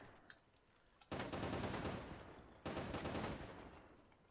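Two bursts of rapid automatic gunfire in an Unreal Engine first-person shooter game, each a dense rattling volley that fades out, separated by a brief pause.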